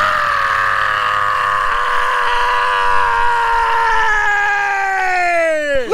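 A single person's scream held at full power for about six seconds, sustained and loud, with a harmonic pitch that stays level before sliding down and cutting off at the end.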